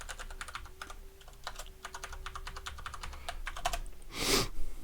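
A password being typed on a computer keyboard: a steady run of light, close key clicks, ending with a louder burst that sounds like a firm final keystroke.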